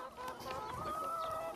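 Hens cluck softly and closely on a small agroforestry farm, a short run of murmuring, throaty calls overlapping one another at a low, steady level.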